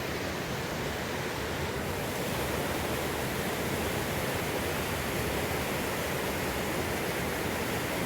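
The Trinityville main river rushes after a flood, a dense, loud, continuous roar of churning water that stays steady throughout with no voices.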